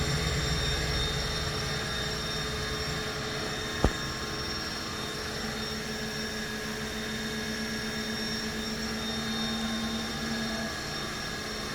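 A 2000 Haas VF-2 CNC mill with a geared spindle running at 2,500 RPM in high gear, a loud steady whine and hum with one sharp click partway through.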